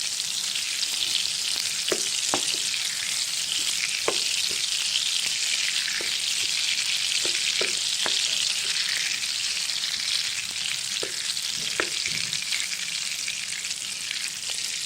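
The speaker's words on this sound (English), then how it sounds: "I'm just melting the butter." A block of butter melts and fries in hot oil in a pan for garlic prawns, giving a steady, close sizzle throughout with scattered small pops and crackles, and no talking.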